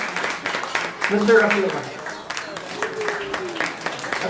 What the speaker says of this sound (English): So huge round of applause to this guy